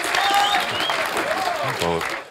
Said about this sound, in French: On peut tous applaudir Sésame qui a écrit les 3 couplets de Marty quand même